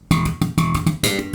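A slap bass guitar plays a short riff of four punchy, percussive notes with sharp attacks and ringing tone between them, loud and up close with no talk.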